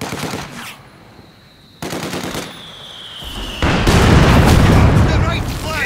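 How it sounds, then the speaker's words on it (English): Rapid machine gun fire in the World War II strategy game Company of Heroes 2, loud bursts layered with battle noise and a shouted voice, building into a denser barrage. "Taking MG fire!"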